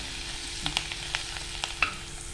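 Half a spoon of chili powder hitting hot oil in a pan for dal palak, a close, steady sizzle with a few sharp spatula clicks and stirs, no voices.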